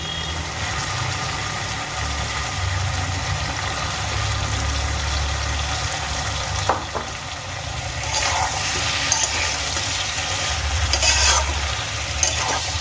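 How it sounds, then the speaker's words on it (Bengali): Green tomato pieces sautéing with potatoes and spices in a pan for a Bengali-style fish curry, giving a constant sizzle over a low droning hum, with a few brief clinks of stirring. "আলু আর মশলার সঙ্গে কাঁচা টমেটাগুলো আমি দু মিনিটের মতো কষিয়ে নেব"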